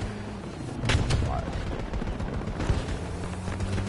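Gunfire bursts through a Battlefield 2042 video game battle, a couple of sharp shots near the one-second mark and another around 2.7 seconds over a low rumbling din, with a voice faintly audible underneath.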